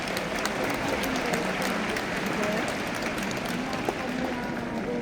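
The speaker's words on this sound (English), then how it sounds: "Give yourselves a round of applause." A large conference audience applauding in a hall, a steady, moderately loud wash of clapping that continues evenly throughout, with faint voices beneath.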